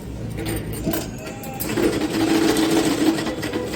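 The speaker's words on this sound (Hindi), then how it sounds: "इसको हम लोग इस तरीके से यहाँ पे किनारे को सिल के इस तरीके से सिलाई करेंगे" A sewing machine stitches the edge of a 2-inch strip of fabric while sewing underwear, a steady mechanical whir that picks up and runs louder through the second half.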